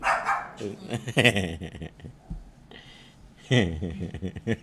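A dog barks in repeated bursts, some close and loud and some yelping, mixed with a person talking nearby.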